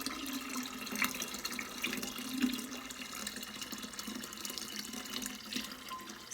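Running water fills a kombucha brewing vessel, producing a steady, moderately quiet stream of splashing and gurgling that continues throughout with no talking.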